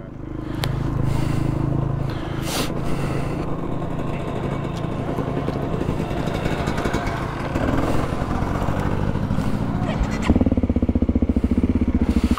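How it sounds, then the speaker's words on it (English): An old-school two-stroke motorcycle passing at a dual-sport motorcycle event, its buzzing engine loud and continuous throughout and swelling near the end, with no talk. "Old school two-stroke."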